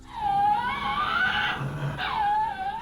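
A Tasmanian devil, a carnivorous Australian marsupial, lets out shrill, strident screeches in two long wavering cries with a low growl between them, close and loud.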